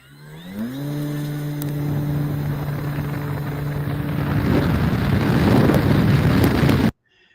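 A steady RC model aircraft engine whine holds a constant pitch in flight, then fades into rising wind and rushing noise before cutting off abruptly.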